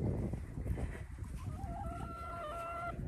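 Hens in a backyard coop cluck and murmur close by, with a drawn-out crow-like call rising partway through, over a busy low farmyard background.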